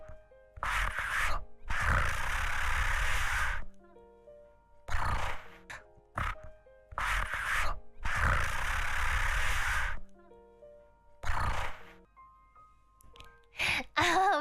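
A person tries to imitate a cat purring but produces rough, snorting, horse-like bursts, several long raspy exhalations and shorter snorts separated by pauses, loud and close.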